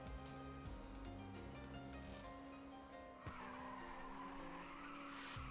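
A race car drifts in Ridge Racer 2 on PSP, its engine droning under a long, sustained tire squeal and skid, with a brief shift in pitch midway, close and continuous.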